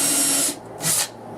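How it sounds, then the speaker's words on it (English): A self-centering drill bit boring two holes through a template into a shelf while hamper doors are installed: two close, loud bursts of power-drill whine, each under half a second, separated by a short pause. "using my self-centering drill bit, I drill my"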